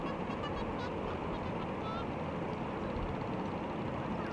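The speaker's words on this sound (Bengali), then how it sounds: "কতগুলো রাজহাঁস।" Geese honk from a short distance beside a river, their calls faint and scattered over a broad, steady outdoor wash of background noise.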